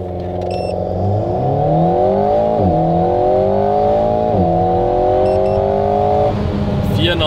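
Renault Alpine A110 sprinting from 0 to 100 km/h, its engine loud and close as revs climb steadily through the gears, with two short dips at the shifts before a final rise and a brief drop-off at the end.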